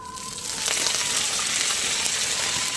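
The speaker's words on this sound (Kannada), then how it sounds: "ಬಣಾಲೆಗೆ ಸ್ವಲ್ಪ ಎಣ್ಣೆ, ಸ್ವಲ್ಪ ಬೆಳ್ಳುಳ್ಳಿ ಹಾಕ್ತಾ ಇದ್ದೇನೆ. ಆಮೇಲೆ ಸ್ವಲ್ಪ ಸಾಸಿವೆ, ಕರಿಬೇವು" Garlic, mustard seeds and curry leaves fry in oil in a pan, giving a loud, steady sizzle close up that swells slightly after the first half second and continues without talk.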